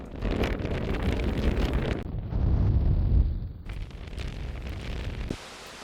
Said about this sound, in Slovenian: Veter nama tisti dan ni prizanašal.